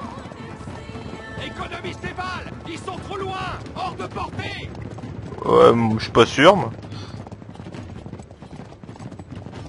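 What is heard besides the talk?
horses galloping in the Uncharted video game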